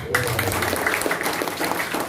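Applause from an audience at the opening ceremony of an amateur radio special event station led by the deputy mayor of Singkawang, a steady broadband patter running throughout beneath a voice talking.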